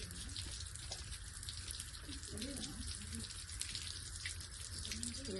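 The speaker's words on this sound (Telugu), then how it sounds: "తీసుకొని ఆ ప్లేస్ లో బాగా సోప్ అప్లై చేసి జెంట్లీగా రబ్ చేయాలి" Running water from a tap splashes steadily while soap is rubbed gently over a dog bite wound, a continuous rushing wash with small handling noises beneath.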